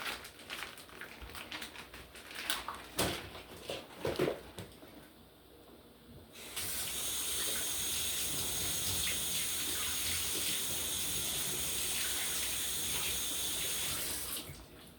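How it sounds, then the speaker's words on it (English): A tap runs steadily in a sink while meat is rinsed, a loud continuous gush of water after some quieter clinking and handling sounds. "I'm going to just wash off my meat and then add it to this bowl here"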